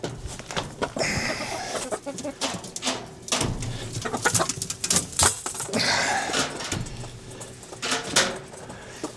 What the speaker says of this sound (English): Angry chickens.